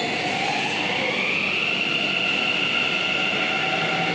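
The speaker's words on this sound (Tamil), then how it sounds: "அவ்வளோ சீக்கிரம் போகிற மெட்ரோ ட்ரெயினை பாருங்கள்" A Bengaluru metro train pulls away from the platform with a loud, steady rush and rumble and a gently rising electric whine, heard up close with no voices.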